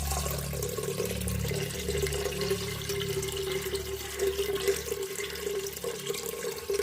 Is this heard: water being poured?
yes